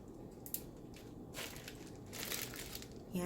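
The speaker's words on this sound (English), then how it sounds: "Now I'm going to take my plastic bag and get the air out of it." A plastic bag is squeezed to push the air out, giving soft crinkling and crumpling in a few bursts, quiet and close, with no talking.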